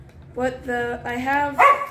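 A pet dog barks a few times close by, sharp yips breaking through a person talking over it in a room during a scarecrow decoration demo.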